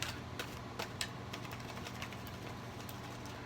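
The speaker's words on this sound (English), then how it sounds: "So I can keep shuffling so we can get your card." Tarot cards are shuffled by hand, a quiet stream of soft flicking and riffling clicks with a few sharper snaps near the start over a low background hum.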